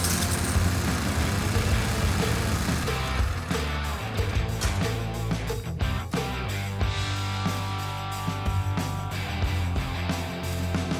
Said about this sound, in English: just going to go ahead and turn the engine over, get all the oil cycled through there.